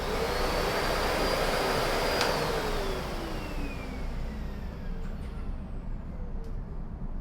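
A Lindhaus HF6 vacuum cleaner with a PB14 power nozzle runs steadily and close up, a broad even whoosh with a thin high whine that eases slightly in level partway through, no talking.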